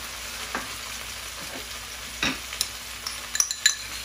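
Salted and peppered chicken legs fry with finely chopped onion in a pan, a low, steady sizzle broken by spatula stirs and a few light clinks toward the end.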